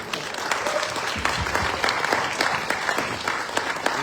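Audience applause for a guest at a MINI GT live event in Malaysia, a steady round of clapping from a crowd lasting several seconds without speech.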